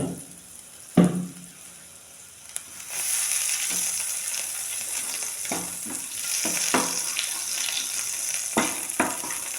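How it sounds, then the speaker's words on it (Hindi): Ghee heats in a frying pan, starting with a clunk and then settling into a quiet steady sizzle, with scattered light utensil taps close by and no talk. "पहले तो घी को अच्छे से गर्म कर लेती हूँ"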